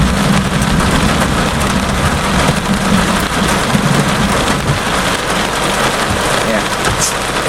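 Heavy rain during a Florida thunderstorm, a loud continuous wash of downpour with low rumbling underneath, steady from start to finish.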